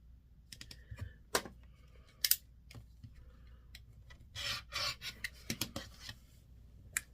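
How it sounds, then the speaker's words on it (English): Selvages are trimmed off quilting fabric, producing intermittent close scraping and snipping bursts against a quiet room background, with brief clicks and rubs between cuts. "I'm just going to cut the selvages."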